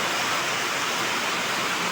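Heavy unseasonal rain in Kelve, with water running along a road, makes a steady, dense, unbroken roar of rushing water and downpour that stays loud and close for the whole stretch, with no voices.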